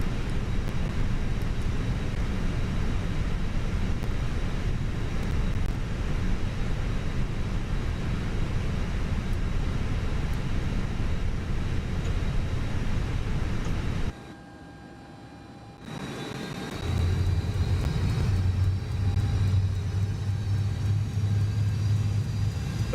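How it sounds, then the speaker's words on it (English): Fenix A319 auxiliary power unit spooling up in a flight simulator cockpit: a steady broadband rumble and whine that briefly drops out, then returns with a rising tone and a low hum. It is loud and continuous, with no talking. "All right, let's turn on the APU."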